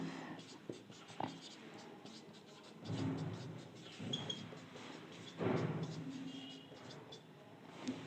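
A teacher writes a chemistry naming example on a board, with quiet, irregular scratching strokes and taps of the marker or chalk, faint and close, and occasional low murmuring in the background.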